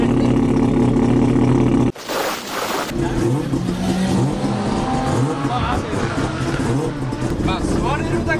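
A four-rotor Nissan GT-R R35 drift car revs hard and loud, a brief cut near two seconds, then the engine roars on with rising and falling throttle while people talk over it.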